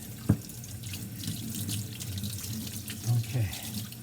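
Tap water runs steadily into a sink as a paint brush is rinsed clean, a close, continuous splashing wash with a brief sharp knock near the start and small surges later.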